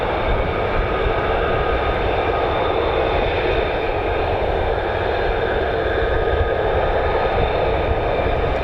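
An F-35 fighter jet, the conventional takeoff and landing variant, at RAF Lakenheath roars with a loud, steady broadband engine rush that holds constant throughout, with no voices.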